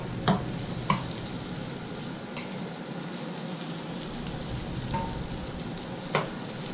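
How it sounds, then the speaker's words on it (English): Fried rice stir-fried in a pan, a steady close sizzle with scattered clanks and scrapes of the spatula or pan tossing throughout. "I still suck at the stir fry flips."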